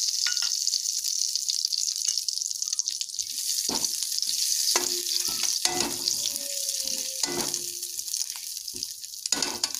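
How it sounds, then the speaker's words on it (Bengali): Bay leaf and garam masala tempering in hot mustard oil produce a soft crackling sizzle, with scattered sharp pops and clinks from the pan and utensil over a quiet hiss, and no speech. "তেজপাতা আর গরম মশলা ফোড়নে দিয়ে দিলাম।"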